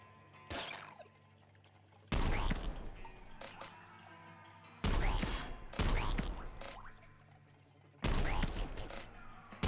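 Seeker shots fired from an upgraded gun in the video game Nuclear Throne, heard as three or four loud, sudden bursts a couple of seconds apart, each dying into a quieter rumbling game backdrop.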